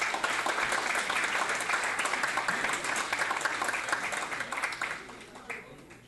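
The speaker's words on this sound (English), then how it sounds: "Please give them an applause." An audience at a literacy tutor recognition and awards ceremony claps for the tutors, dense sustained applause that fills the room and then tapers off toward the end.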